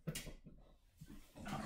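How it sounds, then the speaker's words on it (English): A dog whimpers and yips softly in short, faint bursts during a church service gathering, heard against a quiet indoor room. "Oh, there's the dog."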